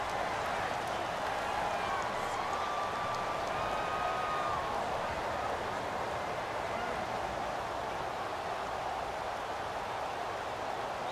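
Steady, dense stadium crowd roar fills a Madden 18 playoff game between the Minnesota Vikings and Philadelphia Eagles, a loud, continuous wash of home-field noise with faint whistling tones drifting over it.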